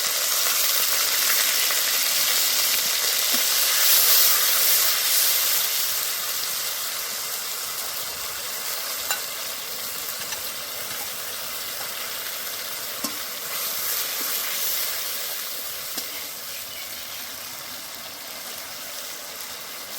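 A paste of ginger, coriander, cumin and dried red chilli is fried in a hot pan with a little water, for a vegetarian paneer dish. It gives a loud, steady, steamy hiss and sizzle that slowly eases, with occasional faint clicks.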